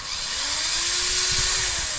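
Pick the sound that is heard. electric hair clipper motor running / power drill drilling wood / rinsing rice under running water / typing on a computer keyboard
power drill drilling wood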